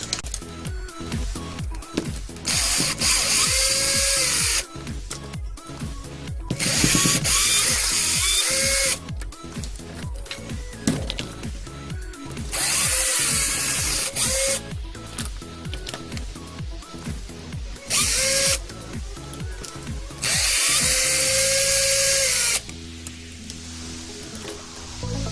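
A power driver removing 2mm screws from the rear bumper of a Vaterra Halix RC car, several separate bursts of high whirring, each a few seconds long, with clicks and handling noises in between.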